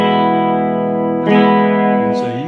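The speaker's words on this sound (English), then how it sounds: "I'm going to add a little bit of reverb." An electric guitar runs through a Ghost Drive overdrive pedal into a tube amp with added reverb, a loud sustained chord ringing out, then a fresh strum partway through with a reverb tail and a final pick scrape.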